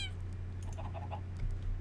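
Cat meowing in the video game Minecraft, a short synthesized meow heard fairly faintly over a steady low hum.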